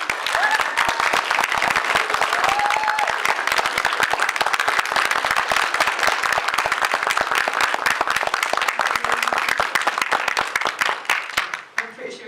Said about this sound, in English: when she walks on stage, everyone please give her a round of applause